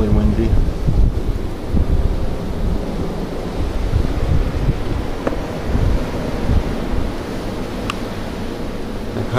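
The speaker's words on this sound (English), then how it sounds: "Still really windy." Strong gusting wind after a February blizzard buffets the microphone in a loud, roaring wash that rises and falls, with a person talking briefly over it.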